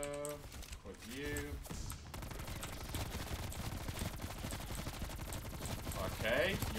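Rapid gunfire from Call of Duty Cold War Zombies rattles steadily through the whole stretch, a dense run of shots at a fairly constant level, with game speech and effects briefly over it near the start.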